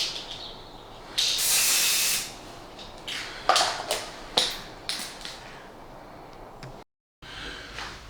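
Matte lacquer is sprayed from an aerosol can over an OO gauge model railway layout in several hissing bursts, one long and the rest short, close to the listener, with a brief silent gap near the end.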